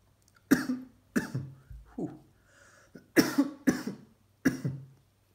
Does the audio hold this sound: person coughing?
yes